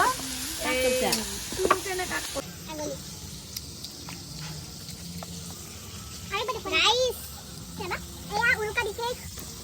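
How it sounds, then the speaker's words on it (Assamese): Onions and spices frying in a pot for goat meat curry, with soft sizzling and occasional stirring running low under a child's and adult's voices talking nearby. "মায়ে ধুনীয়াকৈ পিঁয়াজ মছলা পূৰা ভাজি আছে"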